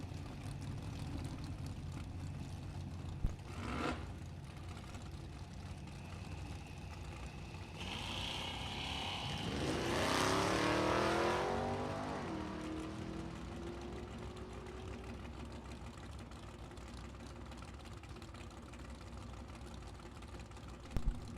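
Distant drag race launch of a 1970 Nova and a 1965 Mustang at a bracket racing event: faint idling under steady background noise, then engines swell and rise in pitch around midway before fading off.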